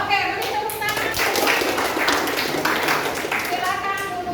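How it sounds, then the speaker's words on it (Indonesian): Schoolchildren in a classroom clap together after a counting exercise, a thick, fairly loud burst of hand claps running throughout, with young voices sounding over the clapping. "beri tepuk tangan"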